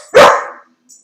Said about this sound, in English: The boy got the dog excited.